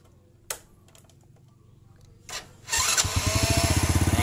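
A jumpered electric starter motor on a Honda Legenda, Grand or Supra Fit motorcycle: two sharp clicks, then a close, loud, rapidly pulsing mechanical whir that runs steadily until the end, with no talking.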